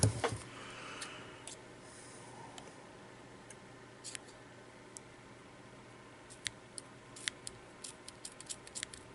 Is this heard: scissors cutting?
yes